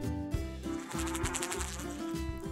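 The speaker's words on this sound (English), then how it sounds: "Honeybee." Honeybee buzzing in a steady continuous drone, with a low hum beneath and a few soft pulses, no voices.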